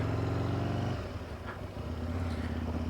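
An Aprilia RSV1000R motorcycle fitted with a 16-tooth front sprocket drones steadily while riding, a loud continuous engine note that dips briefly in pitch before settling again.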